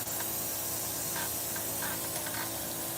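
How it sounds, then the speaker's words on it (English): Steady hiss of a spray hose washing ice off a trailer, continuous and close, with faint knocks and rubbing under the spray. "Spray it down one more time."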